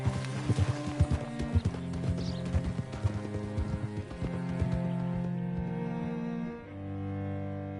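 Horse hooves clip-clop steadily and close in Red Dead Redemption 2, a quick rhythmic trot that slows and fades toward the end over a low sustained musical bed.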